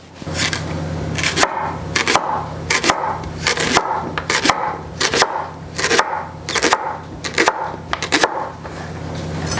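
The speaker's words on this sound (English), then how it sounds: "My plan for the rest of the leeks is to chop them up like this" A knife chopping leeks on a wooden board, a steady series of about a dozen crisp, close cuts, each a sharp thud on the wood with a soft crunch between strokes.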